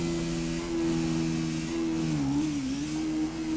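A 160 motorcycle idles and revs in GTA, a steady mid-pitched engine drone with a brief dip and rise in the middle, heard alone and up close.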